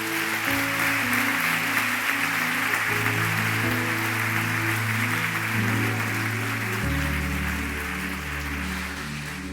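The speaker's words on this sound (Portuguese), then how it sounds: "Você pode dar um aplauso para ele." A church congregation applauds while sustained keyboard chords play underneath, giving a steady, rain-like hiss of clapping that holds evenly from start to finish.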